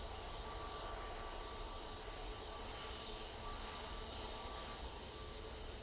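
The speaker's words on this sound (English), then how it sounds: "Right now, 737 MAX 8. Going off to Bergen, I think, that one." Boeing 737 MAX 8 jet taking off at Manchester Airport, a steady broadband engine roar that holds loud and constant throughout, heard from a distance with no voices.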